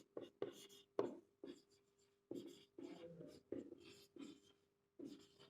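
Chalk or marker strokes on a board during a set theory lesson, coming in short bursts of scratchy writing with brief pauses between them, close and fairly clear, with a faint tonal hum underneath.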